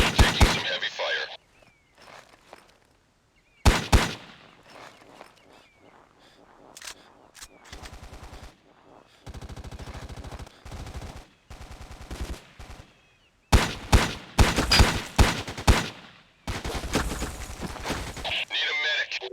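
Bursts of heavy gunfire from the game Heroes Unleashed come in loud clusters broken by quieter gaps, some bursts sharp and cracking, others sustained like automatic fire, with voices speaking in places.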